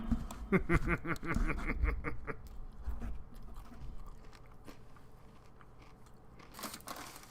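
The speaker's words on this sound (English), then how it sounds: "Can you guys hear me crunching as I'm chewing?" A person crunching food while chewing, close up, a quick run of crisp bites and chews that fades to quieter mouth sounds, with faint background noise.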